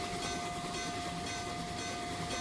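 A train runs steadily in a simulator on the Reading T1 line, a continuous rumbling drone with a sustained whistle-like tone, loud and unbroken with no voices.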